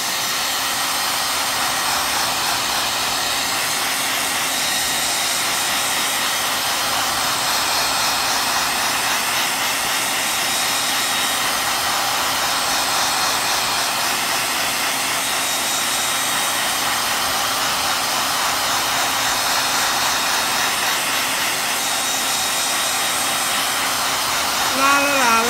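A hair dryer blowing on a Dollar Tree sticky stencil, a loud, continuous whirring hiss held steady close up for the whole stretch.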